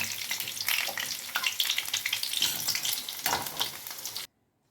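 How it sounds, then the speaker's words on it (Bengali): Potatoes fry in hot oil with a loud, close, crackling sizzle that bubbles and flares unevenly. It stops abruptly just before the end. "তেলটা গরম হয়ে গেছে আমি আলুগুলো দিয়ে দিলাম"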